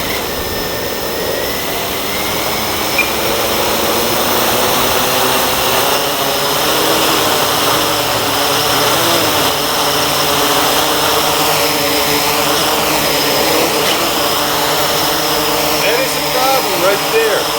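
A Blade 350 QX quadcopter drone hovers just inches off an indoor floor, its steady high-pitched motor and propeller whine continuous and close throughout, with slight wavering in pitch.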